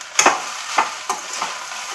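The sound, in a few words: stirring rice mixture in cooking pan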